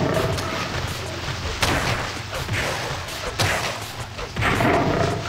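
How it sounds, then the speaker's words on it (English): Explosions in a video game, a series of heavy booming blasts and thuds that recur over several seconds amid dense crashing noise. "You explode in an explosion of food."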